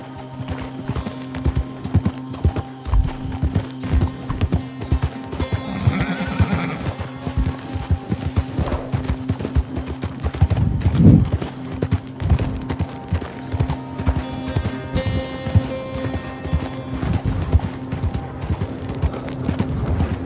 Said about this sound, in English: Get that horse out of the way, Clive